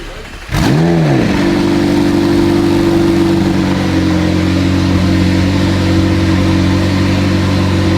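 A crash-damaged, rebuilt McLaren 720S engine cranks briefly and fires up with a loud rev, then settles into a steady, close, loud idle.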